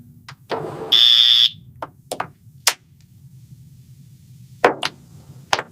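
An electronic door lock on a hotel room door gives a short, loud high-pitched error beep amid scattered knocks and handle clicks in a quiet corridor.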